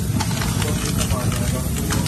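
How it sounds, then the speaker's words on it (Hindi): Aerosol spray hisses steadily onto a car's worn brake drum, a continuous close-up rush of air over a low idling rumble. "देख लो स्प्रे दिखाऊंगा लगता हुआ।"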